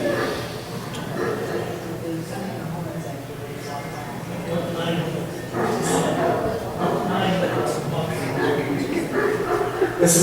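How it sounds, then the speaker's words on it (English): A shepherd's sheepdog works a flock of sheep in northern Spain in late September, with barks and yips breaking through busy outdoor noise and people talking nearby. "Shepherd with his sheepdog pushing his sheep."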